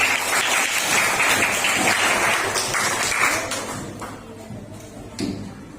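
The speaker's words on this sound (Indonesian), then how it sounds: "Tepuk tangan." Classroom students break into a burst of clapping that fills the room, then thins out and fades into scattered claps and a few knocks before dying away.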